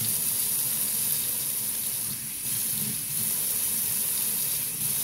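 Steady, close rush of water from a sink tap filling the reservoir bottle of a portable handheld electric bidet, a continuous hiss with slight dips in flow.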